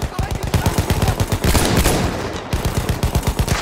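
Rapid bursts of automatic gunfire rattle continuously, loud and close, with sharp repeated shots and no talking.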